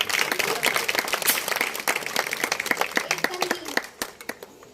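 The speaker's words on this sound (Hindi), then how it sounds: "एक बार सबके लिए जोरदार तालियां" After a Ramayana stage show, a theatre audience breaks into hearty clapping for the named performers, crisp, close claps in a busy, uneven patter that thins out toward the end.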